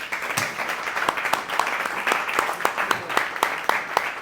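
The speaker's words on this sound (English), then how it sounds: "let's get one more round of applause" A tech talk audience gives a speaker one more round of applause, sparse, uneven claps from a small group with distinct individual hand strikes and some talking mixed in.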